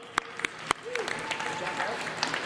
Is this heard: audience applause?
yes